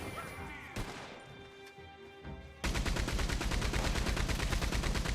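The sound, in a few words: minigun firing in video game Red Dead Redemption 2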